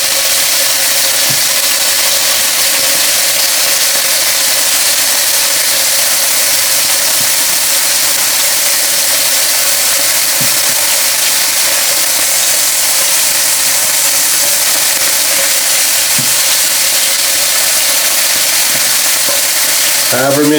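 Strips of pepper steak beef sear in a hot pan, a loud, dense, continuous sizzle that stays steady throughout, with a few faint pops and no voices.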